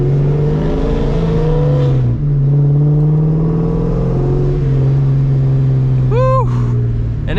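A blue two-valve Ford Mustang drives along with a loud, steady engine drone that rises and shifts in pitch, and a brief sharp rev-like chirp near the end.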